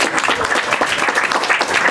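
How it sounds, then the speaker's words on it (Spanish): An audience at a book presentation in a bar gives a loud, dense round of applause for the editor, with fast overlapping claps from many hands, close and continuous throughout. "por favor un fuerte aplauso para ella"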